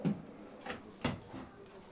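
A big kitchen drawer in a 2023 New Horizons Majestic M42RK3S luxury fifth-wheel RV slides and knocks, making several dull, close thumps and rolling scrapes spaced across a quiet moment.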